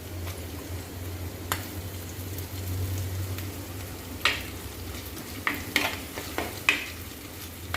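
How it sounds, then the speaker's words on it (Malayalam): Ground spice paste poured into a hot pan gives a soft, crackly sizzle that picks up toward the end with several sharp spatters and clicks, close and without talking. "ഇനി നമുക്ക് ഈ അരപ്പൊന്ന് ഒഴിച്ചു കൊടുക്കാം"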